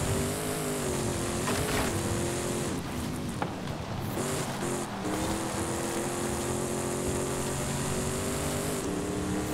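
A Toyota Tundra TRD Pro with a 6.7L V8 diesel engine in a racing video game drones steadily, its revs dipping and climbing at shifts and bumps, loud and continuous with no voices.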